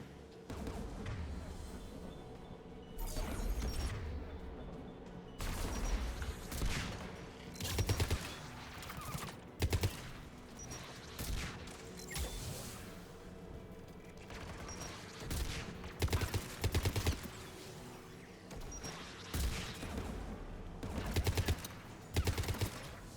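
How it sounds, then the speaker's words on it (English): Anti-aircraft guns firing in the video game Mass Effect 3, repeated heavy booming bursts at intervals over a rumbling battle ambience, fairly distant and steady. "AA guns ahead of us."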